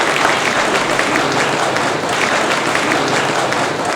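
An audience claps steadily and loudly through the whole stretch, dense applause for a boy's speech on stage, with no voices rising above it.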